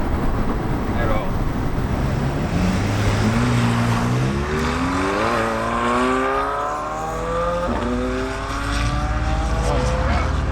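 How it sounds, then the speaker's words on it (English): A McLaren 720S at a race track is heard as an engine note rising steadily through several gears under heavy wind buffeting, loud and close. "Let's see if we can hear the 720"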